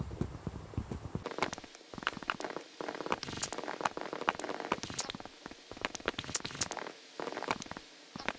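Rain falls in Minecraft as a faint, steady patter of dense, irregular droplet ticks, with short quiet gaps, and no voices over it.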